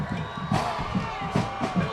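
Rowdy crowd at a high school football game: a continuous roar of many voices with rhythmic swells of cheering and shouting, fairly close and busy throughout.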